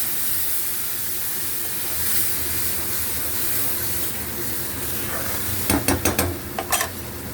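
Ground raw mango paste drops into a hot tempering for a kairi saar curry, giving a steady hiss and sizzle with stirring, then a few sharp clinking scrapes near the end.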